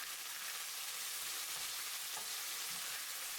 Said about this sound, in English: Let them sear for 1 minute and 30 seconds.